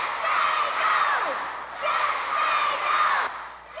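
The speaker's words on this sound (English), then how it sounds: "Here, she visits a rally in Oakland and joins in a cheer to just say no." A rally crowd in Oakland in 1986 chants an anti-drug cheer together, a loud, dense mass of voices that swells, dips briefly, then rises again and holds.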